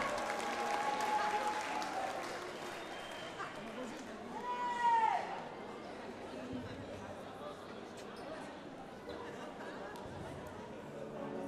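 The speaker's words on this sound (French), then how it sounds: "On l'applaudit s'il vous plaît." Spectators applaud a singer at the Miss Wallis & Futuna 2020 gala, a steady crowd clapping under chatter and an announcer's voice, with a short swell midway.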